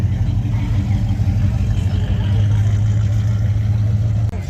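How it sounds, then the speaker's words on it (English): An old Holden EH station wagon pulls away at a classic car show, its engine a steady low rumble that holds close and loud before dropping off abruptly at the end. "The old EH wagon driving out."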